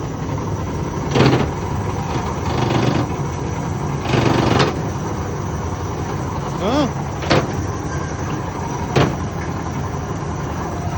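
Power take-off on a 1979 Chevy C30 wrecker runs at idle, driving the tow bed with a steady, fairly loud mechanical drone; several short bursts of talk and a couple of brief squeaks sit over the continuous running noise.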